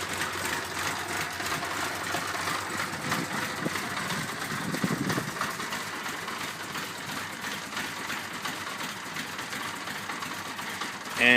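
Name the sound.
1978 CB550 motorcycle engine sputtering after cold start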